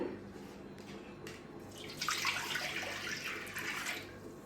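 Water pours steadily into a tea pot, a broad splashing rush that swells after a couple of seconds and runs on to the end, with no talking.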